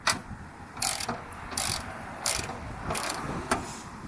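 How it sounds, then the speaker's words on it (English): A hand ratchet loosens a 10mm bolt on a car hood while a Tein hood damper is fitted, giving a close run of steady clicking strokes with about one click every half second. "we're going to undo this bolt, and it's going to be a 10mm on both sides"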